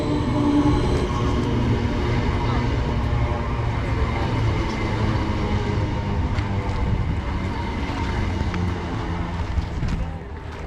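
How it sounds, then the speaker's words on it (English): A Greater Anglia class 321 electric multiple unit pulls into a station platform, a loud, steady rumble of wheels and motors filling the whole stretch with rail clatter, then easing slightly near the end. "coming in now is our train, the 1337 Greater Anglia service to Walton-on-the-Naze, 321304."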